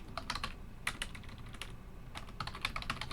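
Rapid clicking of a computer keyboard as a short summary is typed, with uneven bursts of keystrokes, close and steady, without any voices.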